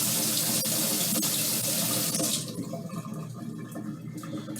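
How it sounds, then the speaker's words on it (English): An onion is rinsed under a cool kitchen tap. Water rushes loudly and steadily for about two and a half seconds, then drops to a quieter, thinner trickle against the sink. "So we're gonna give it a nice rinse under cool water."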